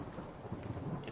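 Rain and rolling thunder from the survival video game The Forest, a steady low rumble with a wash of rainfall filling the whole short moment at moderate, even loudness.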